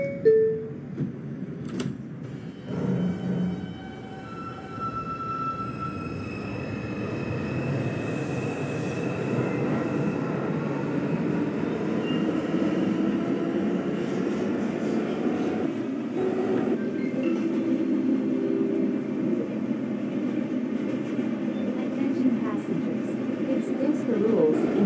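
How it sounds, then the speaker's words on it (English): A New York City subway 5 train of R142 cars pulls out on a Manhattan-bound run, building into a steady loud rolling rumble with faint wheel squeal, while an automated announcement voice speaks over the start. "This is a Manhattan-bound 5 train"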